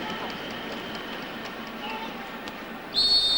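A referee's whistle signals a penalty at the 1999 World Handball Championship semi-final, Yugoslavia against Sweden. A steady arena crowd roar and commentary fill the clip before one sharp, piercing blast sounds near the end.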